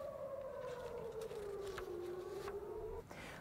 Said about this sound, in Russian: в северных районах Израиля вновь включили сирены воздушной тревоги